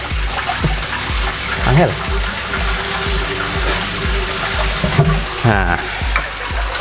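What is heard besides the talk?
water gushing from opened koi pond filter backwash pipe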